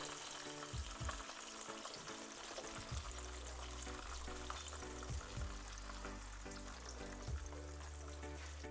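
Kerala pazhampori banana fritters frying in hot oil, giving a steady quiet sizzle and bubbling with a few soft low knocks from turning the fritters, and no voices.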